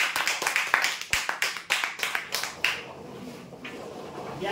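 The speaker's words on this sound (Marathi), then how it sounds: "जोरदार टाळ्या" A small crowd at a prize draw claps in a short burst that fades to a few scattered claps and then room noise.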